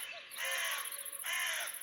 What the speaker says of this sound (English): those damn crows